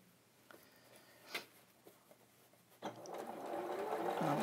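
A sewing machine stitching quilt fabric, starting after a few faint clicks and then running as a steady, close, quiet whir that builds and keeps going.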